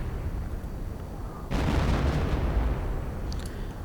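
An artillery barrage in a video game match: a sudden heavy blast of broadband rumble hits midway over a low ambient bed, then rolls on as sustained booming with a faint crackle near the end.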